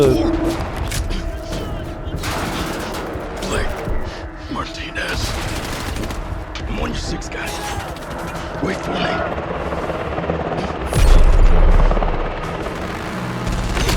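Helicopter rotor drone with bursts of gunfire and explosions in the Battlefield 6 campaign, a dense, continuous battle din with a louder blast near the end and voices talking over it.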